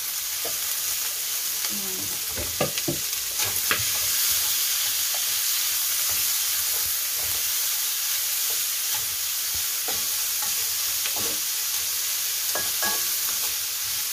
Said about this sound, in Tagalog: unahin natin ilagay yung mas matabang parte ng karne para yung mga mantika niya ay lalabas